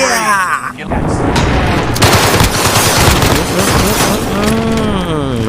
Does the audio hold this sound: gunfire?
yes